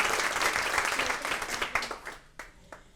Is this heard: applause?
yes